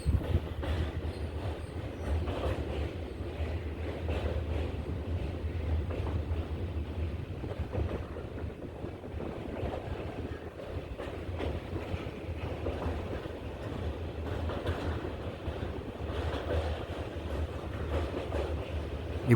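A train rolls onto a bridge just past Punalur station on the Kollam–Chenkottai line, giving a steady, fairly quiet rumble with wheel clatter that carries on evenly throughout.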